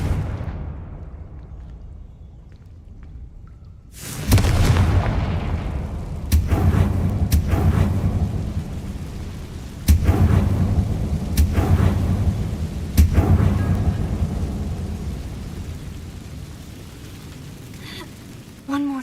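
Confringo fire spell blasts in the Hogwarts Legacy video game: a series of loud booming explosions, about five, each with a rumbling tail, spaced a couple of seconds apart over a low continuous background.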